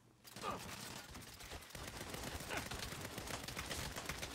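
Rapid gunfire in a Saints Row video game, a dense continuous fusillade of shots lasting the whole stretch, fairly quiet in the mix while fighting an enemy, with no talking.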